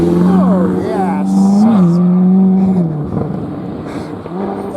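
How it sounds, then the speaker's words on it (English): Ferrari sports car passing near a roadside viewpoint, a loud engine note that rises and shifts pitch as it goes by, then fades into wind and traffic noise. "that's a Ferrari"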